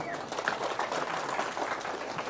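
An audience at an Indonesian political speech bursts into applause, a dense, continuous patter of clapping at moderate loudness lasting a couple of seconds.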